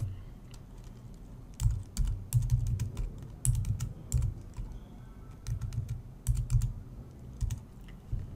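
Someone types a username on a computer keyboard, with quick bursts of close, crisp key clicks separated by short pauses and no talking.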